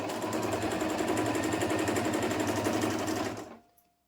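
A sewing machine stitches fabric in a fast, steady mechanical rattle for about three and a half seconds, close and loud, then stops abruptly into near silence.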